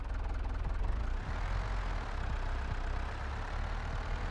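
A tractor engine in Farming Simulator 22 on a 1990s-style farm map, a steady, close, low droning rumble that holds without a break from start to finish, with nobody talking.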